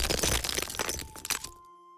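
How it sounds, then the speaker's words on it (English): A skull is smashed to pieces on a floor: a dense burst of loud cracking and breaking that rattles for over a second, then cuts off into a faint lingering tone. "grabbing the skull and smashing it to pieces on the floor"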